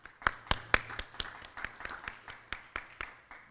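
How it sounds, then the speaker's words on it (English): A small audience at a high school education awards celebration claps for sponsors, sparse, fairly even separate claps at a steady rhythm, faint and slowing slightly toward the end. "So let's give our diamond level sponsors a round of applause"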